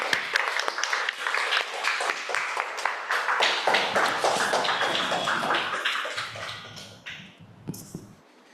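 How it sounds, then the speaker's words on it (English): A round of applause at a Toastmasters meeting, scattered hands clapping with a voice or two cheering over it, fading out near the end. "Can we have a round of applause for Toastmaster Sarthak?"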